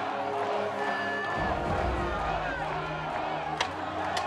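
Crowd cheering at a medieval armoured combat tournament during a three-versus-three final: a dense, continuous roar of spectators throughout, with a commentator talking over it.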